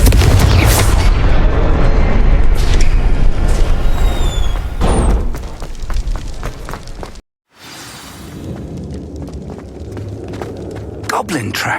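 A Confringo fire spell in Hogwarts Legacy goes off as a loud, booming explosion with a crackling, shattering burst up front. Game effects and scattered impacts follow, then a brief drop to silence before quieter game sounds resume.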